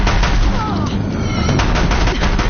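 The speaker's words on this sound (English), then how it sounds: "If the Death Warriors keep firing, this bridge will go." Death Warriors pour continuous heavy fire onto a bridge in Horizon Zero Dawn, a loud, dense roar of overlapping blasts and booms with a character's voice running underneath.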